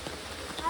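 Rain falls steadily in a rural village setting near a muddy water-filled pit, a soft, faint patter with a few light drop ticks toward the end.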